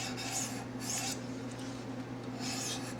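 A blade is honed with steady back-and-forth strokes on a 400 grit sharpening stone, making a close, continuous gritty rasp with a soft swell on each pass.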